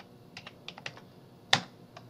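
Typing on a computer keyboard while setting up a Siemens CNC mill simulator: a handful of light, irregular key taps, then one sharper, louder keystroke near the end, close and alone.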